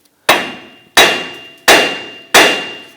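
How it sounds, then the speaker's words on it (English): A hammer strikes a punch to drive out the pinch bolt on a 2006-2010 Hummer H3 front suspension, four loud, evenly spaced metallic clangs with ringing decay, close up. "We're just going to use a punch to the other side"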